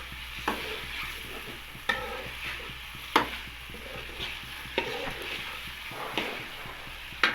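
Chicken liver stir-fries in a pan, with a soft, steady sizzle punctuated by regular scraping strokes of a spatula about every second and a half, close and fairly quiet.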